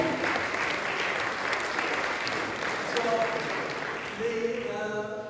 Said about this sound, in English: give them a round of applause if you're wrong